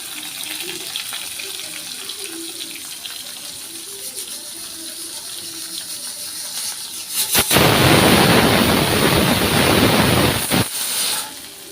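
Onions tipped into hot oil in a pan for a liver fry burst into a loud, dense sizzle that roars for a few seconds and then cuts back, preceded by quiet kitchen background.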